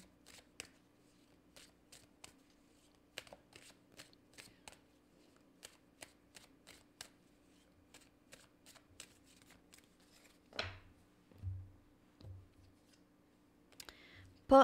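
Tarot cards being drawn and handled during a reading, producing quiet crisp flicks and snaps spaced through the clip, close and faint over a steady low hum, with a few low thumps near the end.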